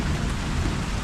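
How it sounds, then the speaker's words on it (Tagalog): Heavy rain pours with thunder in the background, a dense, even hiss of falling water over a low, rolling rumble that stays steady throughout, with no voices. "Ulan na po."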